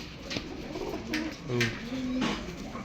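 Pigeons kept as tournament racing birds give soft, close coos in short repeated phrases over quiet background hiss.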